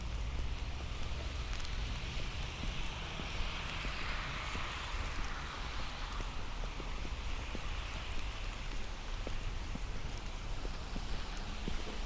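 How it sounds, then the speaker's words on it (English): Steady rain falling on a snowy street in Dyker Heights, Brooklyn, making a continuous close wash of hiss and patter with no voices. "it is raining right now"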